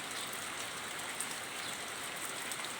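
Rain falls steadily, an even, dense hiss of drops with no clear pauses, moderately loud and uninterrupted throughout.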